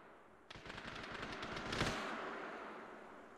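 Bursts of automatic gunfire from the Arma 3 video game, a rapid string of sharp shots that builds over a couple of seconds and then trails off into a fading echo, with no voices.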